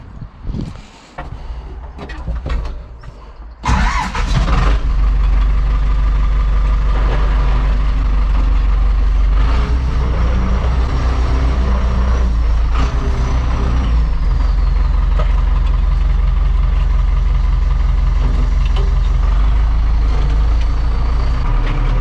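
An Ursus C-360 farm tractor engine starts after a few seconds of quieter sounds, then runs loud and steady close by, with a deep continuous rumble.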